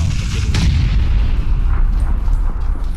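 Rapid bursts of gunfire and booming shots from the battle royale video game PUBG, loud and dense, with continuous low rumble throughout and no talk.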